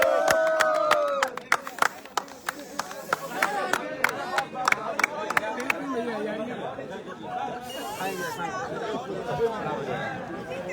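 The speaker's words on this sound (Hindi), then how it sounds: "ताली बजाइए।" People clap in sharp, irregular bursts at a crowded cake-cutting while chatter and babble run underneath, and the clapping thins out partway through.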